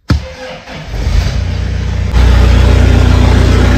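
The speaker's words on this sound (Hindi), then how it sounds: "ऐसी आवाज आ रही है ना फट फट फट की, जैसे ट्रैक्टर की हो" A car engine with a straight-pipe exhaust cranks and fires up loud and close, then settles into a rough, rapid tractor-like putter with a sharp step up in idle partway through.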